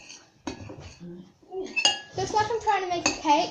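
A spoon clinks and scrapes against a bowl in several sharp, close knocks while flour is mixed into a homemade slime, with someone talking over the stirring.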